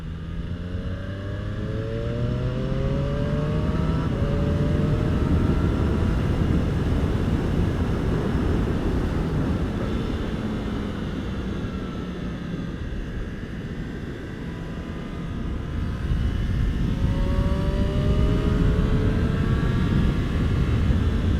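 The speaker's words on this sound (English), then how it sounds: "Reassuring engine braking there, it's really nice." A Triumph Street Triple RS motorcycle engine-braking while riding, a steady loud engine drone with rising and falling pitch sweeps as revs drop and change, under strong wind rush and with no voices.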